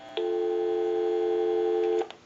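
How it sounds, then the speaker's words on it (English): A converted Kellogg wooden wall crank telephone gives a steady busy-signal tone lasting about two seconds, clean and alone before it cuts off. "We'll call my number and it'll be busy."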